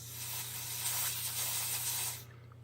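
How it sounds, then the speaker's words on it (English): A steady hiss of compressed dusting spray blown inside a Canon FT QL film camera, loud and close, for about two seconds, then cutting off abruptly. "I'll give it a light shot of dusting spray, very lightly"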